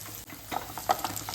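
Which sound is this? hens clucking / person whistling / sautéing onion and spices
sautéing onion and spices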